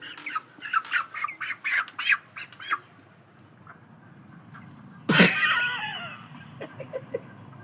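Chickens at a poultry seller's stall let out a loud burst of squawking and flapping, with shorter scattered clucks and calls before and after, close to the microphone.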